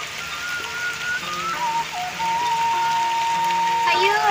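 Steady rain pours down over the countryside as a continuous even hiss, with faint tonal sounds drifting in the background.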